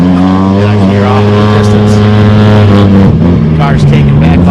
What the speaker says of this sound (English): Cars taking back off, going down the side of the trail.